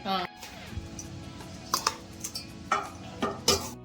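Peanut masala rice being mixed with salt and a prepared spice powder in a home kitchen, a spoon clinking against the vessel in scattered sharp taps over quiet scraping.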